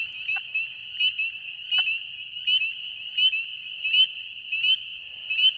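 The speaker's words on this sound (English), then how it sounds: "There's a spring peeper somewhere beside me here." A spring peeper frog calls at night, giving a series of about a dozen sharp, high peeps at a fairly regular pace, loud and close, against a quiet background.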